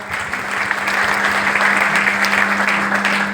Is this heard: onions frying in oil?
no